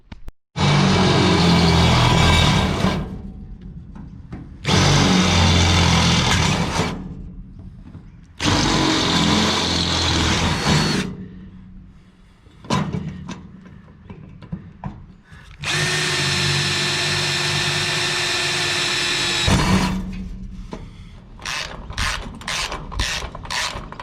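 A power drill runs in several long bursts, bolting down a car trailer tie-down strap, with pauses between runs and a rapid series of short ratcheting clicks at the end.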